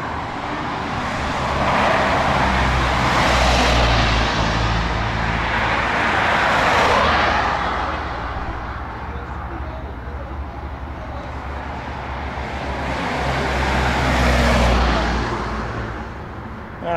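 Cars and traffic on a road pass by in loud, broad whooshes that swell and fade in waves, with a steady rumble underneath the whole time.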